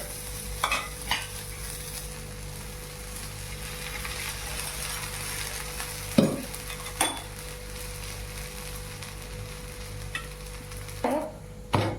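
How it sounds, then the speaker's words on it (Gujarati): Bread toasting on its second side in a frying pan, a steady low sizzle running throughout with a few sharp scrape and clink accents from a spatula against the pan; no voices. "હવે એક બાજુ બ્રેડ શેકાઈ જાય પછી તેને આપણે બીજી બાજુ પણ શેકી લેવાની છે"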